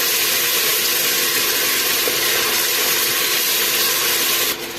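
Ginger garlic paste frying with onions in a pan, a loud, steady broad hiss and sizzle that holds evenly throughout, then drops slightly at the very end, with no voices.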